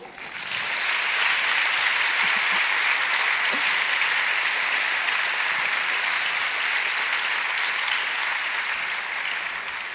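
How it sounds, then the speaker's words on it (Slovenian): A school awards ceremony audience applauds the honored students, dense sustained clapping from a large crowd filling the hall, steady and even throughout after a quick swell at the start. "prav vsi si zdaj zaslužijo pošten aplavz"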